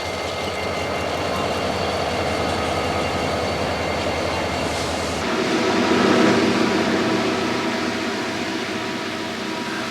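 A CSX freight train rolls past loud and close, its broadband rumble holding steady and then swelling louder around the midpoint as heavier cars or engines go by, with no voices over it.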